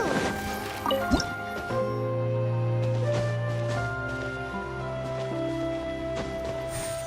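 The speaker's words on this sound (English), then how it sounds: "another water droplet just came out from the wall!" In Genshin Impact, a water droplet creature pops out of a wall with liquid dripping and squishing sounds over a steady layer of game music.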